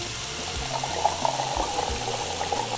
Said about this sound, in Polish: tu się jakaś woda nam jeszcze leje